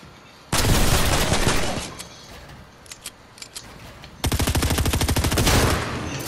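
Rapid automatic SMG fire in Fortnite, two loud sustained bursts with a quieter stretch of scattered single shots between them.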